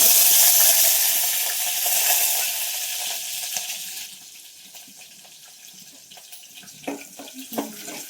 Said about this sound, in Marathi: तेल टाकले आता तेलात आमटीला तेवढं जिरे टाकले आणि थोडीशी मिरच्या टाकली